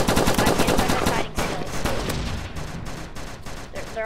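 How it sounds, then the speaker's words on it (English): Rapid bursts of automatic gunfire crackle loudly in the Roblox game Squadron, dense at first and then thinning into scattered shots. "They're all shooting at me, and I'm getting regained."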